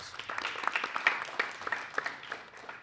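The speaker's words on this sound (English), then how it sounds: "So let's give Noelle a big round of applause" Applause from an audience at a university venture challenge pitch competition, a dense patter of many hands clapping at moderate volume for the whole stretch, with no talking over it.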